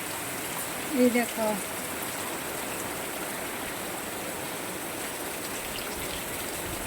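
Heavy rain pours down in Kakdwip, South 24 Parganas, as a dense, unbroken hiss that holds steady from start to finish, while a voice speaks briefly near the start.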